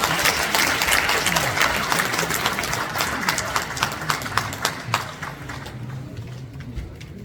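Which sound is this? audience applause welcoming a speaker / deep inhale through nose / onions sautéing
audience applause welcoming a speaker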